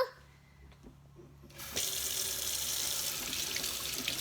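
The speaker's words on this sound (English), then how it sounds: "Wash our hands!" Tap water running into a sink as hands are washed, starting quietly with small splashes and then gushing in a steady, fairly close hiss once the flow opens up.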